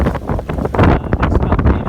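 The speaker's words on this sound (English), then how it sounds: "And we've got southerlies blowing in." Strong southerly wind buffets a sailboat at sea on an exposed anchorage, a loud, continuous roar of gusts pounding close against the microphone.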